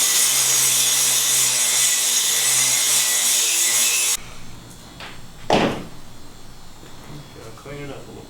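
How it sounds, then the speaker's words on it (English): An angle grinder grinds metal tie-downs off a Napa awning mount, a steady loud rasp for about four seconds that cuts off, followed by quieter clatter and handling sounds. "I'm actually going to take a grinder and grind that off"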